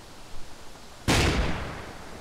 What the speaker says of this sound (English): He's firing something big too.